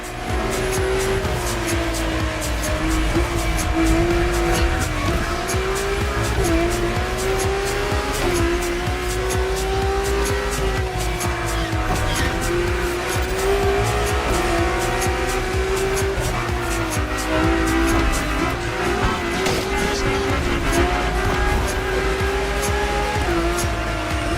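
Drift car racing in The Crew Motorfest, with a high-horsepower engine droning loudly and rising and falling in pitch through gear changes, and tires squealing steadily throughout the dense race.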